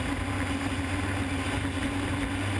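A Hydro350 hydroplane racing boat accelerates across calm water at St-Félicien, its engine a steady, distant droning hum that holds constant without breaks.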